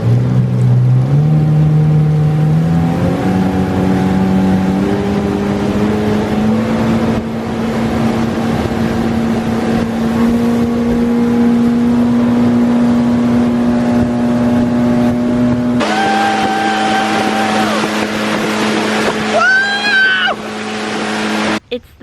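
A boat engine revving at full throttle, its droning pitch climbing steadily as the boat speeds up, loud and close for a long stretch before the tone shifts and rough wind and water noise take over near the end.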